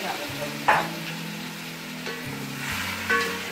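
Boiled beef frying in a pot with ginger garlic paste for degi biryani, a soft, continuous sizzle broken by a couple of brief stirring scrapes.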